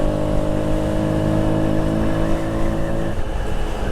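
Loud, steady drone of a 2007 Kymco Agility 125 scooter engine running with an open intake, a strong harmonic whine holding for about three seconds before the pitch drops and roughens, with no talking.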